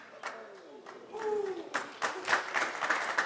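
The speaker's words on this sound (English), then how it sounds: "The woo from the crowd is because he came close to scratching" At a 9-ball pool semi-final, spectators let out a short rising and falling 'woo' after a near scratch, then scattered claps follow, with a commentator's voice underneath.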